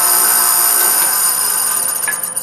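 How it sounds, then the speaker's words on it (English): A hollow chisel mortiser spins freely with its bit rubbing against the chisel, giving a steady, loud metallic whir and hiss with a faint scraping edge that runs throughout. "That metallic noise you hear is the bit rubbing against the chisel."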